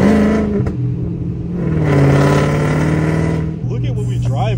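A Dodge Hellcat driving and accelerating, its loud, steady engine rumble rising in pitch partway through before settling again, with people talking over it.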